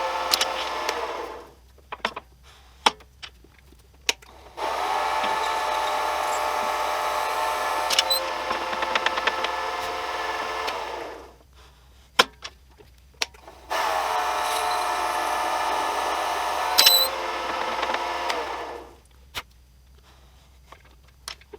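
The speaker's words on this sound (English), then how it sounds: "turn the lathe back on, and then continue drilling" A wood pen blank for a slimline kit pen is drilled on a lathe in two long passes. Each pass is a steady, fairly loud whirring grind, and the stretches between them are near-silent except for sharp clicks and knocks.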